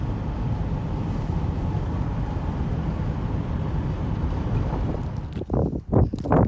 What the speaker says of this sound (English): It's really cold and really windy